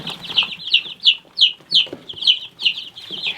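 Baby barnyard-mix chicks peep in a steady run of high, sharp chirps repeating about three times a second, close and fairly loud, with faint rustling underneath.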